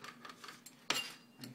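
A knife cuts through pita bread on a board to make pita chips, a few soft scraping strokes followed by one sharper chop, quiet and close with no talk.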